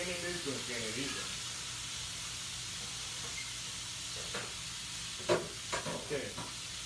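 Vegetables sizzle and crackle steadily on a grill, a soft constant hiss with occasional pops, while people talk faintly in the background.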